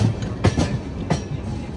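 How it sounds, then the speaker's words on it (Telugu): A train rolls through a large railway junction lined with goods trains, a steady rumbling roar with a couple of rhythmic wheel clacks over the rail joints, close and continuous. "ట్రైన్ అయితే ప్లాట్ఫామ్ మీదకి వెళ్తుంది"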